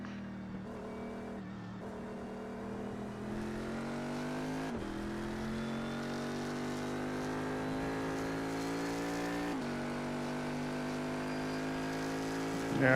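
A big, heavy race car in the iRacing sim holds a steady, loud engine drone with rising harmonics, dropping sharply twice as it brakes and downshifts before pulling away again.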